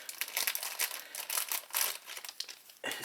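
A tea bag packet crinkles and crackles in quick, irregular bursts as it is pulled open by hand, close and clear with no voices.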